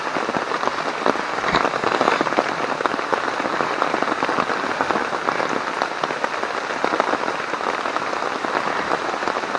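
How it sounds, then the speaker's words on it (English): Heavy rain pours steadily onto the woods around a solo wild camp, a dense, continuous hiss of drops with scattered louder patters close by and no talk. "the woods sure is a beautiful place in the rain"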